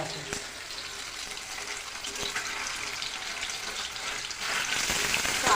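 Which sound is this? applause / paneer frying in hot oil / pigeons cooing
paneer frying in hot oil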